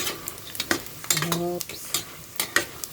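Pili nuts cooking in honey in a pan are stirred with a utensil, giving repeated scraping strokes over a soft sizzle, with a short vocal sound in the middle.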